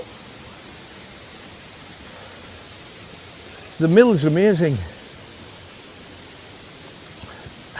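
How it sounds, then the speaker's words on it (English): A waterfall at night in a wooded dene near a mill gives a steady, soft rushing hiss that runs the whole time, while a voice speaks briefly over it partway through. "Oh, there's the waterfall."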